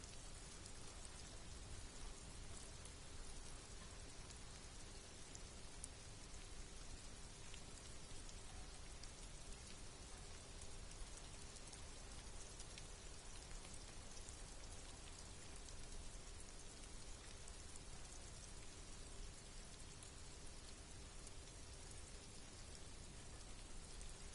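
Steady, even rainfall in the game Disco Elysium hisses throughout, a constant dense patter with no pauses or other sounds.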